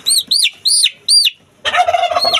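A turkey cock on a rooftop gobbles in four loud, close bursts, then gives a longer, denser run of rattling calls after a short pause.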